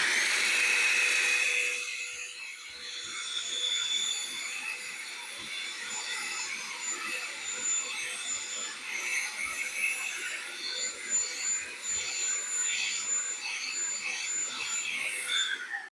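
A DEWALT 20V cordless handheld vacuum (DCV501HB) gives a steady, high-pitched whirring motor hum nearly continuously, loud and close, with a brief stronger burst at the very start.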